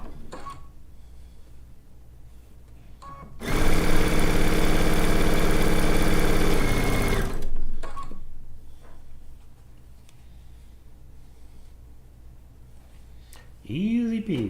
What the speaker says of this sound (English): now we're just going to sew these two stacks of pieces together.